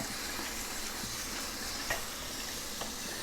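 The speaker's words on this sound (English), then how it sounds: "it just takes a minute or so of rinsing to really get the rice to where you want it" Rice being rinsed in a strainer under running water, giving a steady close wash of splashing and trickling with a couple of faint knocks and no talking.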